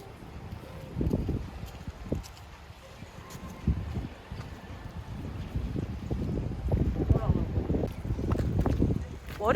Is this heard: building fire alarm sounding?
no